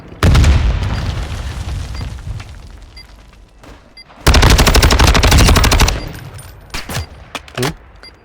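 Loud explosions and bursts of rapid gunfire in Call of Duty Warzone 2.0, with a big blast followed by a long roaring rumble, and a voice calling out briefly.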